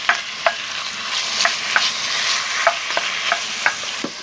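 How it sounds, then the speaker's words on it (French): Ground meat sears in a pan over softened onions and garlic for chili con carne, a steady close sizzle broken by regular scraping stirs about every half second, with no talk. "Maintenant, je dépose la viande pour qu'elle soit saisie dans ce fond."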